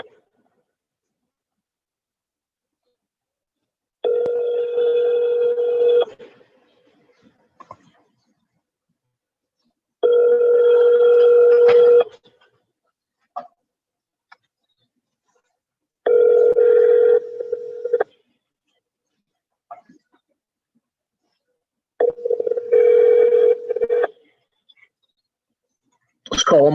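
An outgoing phone call rings back in four long, evenly spaced tones separated by silent gaps, heard clearly through the line with a few faint clicks between rings.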